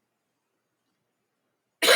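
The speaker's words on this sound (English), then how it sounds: "You guys made me cough." A single short, loud cough from a person with bronchitis bursts out right at the end after nearly two seconds of silence.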